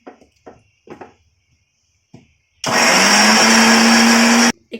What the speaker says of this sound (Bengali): চলো এটা আবার পেস্ট করে নিই।